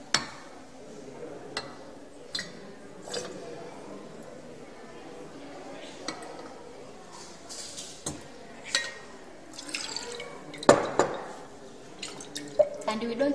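Distilled water trickles from a rinsed laboratory beaker into a volumetric flask, with faint, scattered drips and light glassy clinks over a quiet background.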